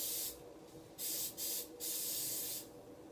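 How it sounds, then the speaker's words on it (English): Cooking spray hisses from a can onto a hot pan in several short bursts, a close, bright spritz repeated about four times with brief pauses between, over a quiet kitchen background. "I'm going to put a little bit more spray."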